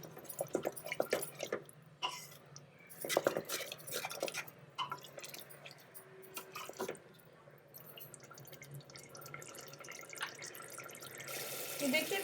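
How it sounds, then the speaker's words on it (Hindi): Water poured into a pressure cooker holding black urad dal. It is a steady splashing, running-water sound with clinks and scattered knocks over the whole stretch, close and moderately loud. "मैंने 3 गिलास पानी डाला है।"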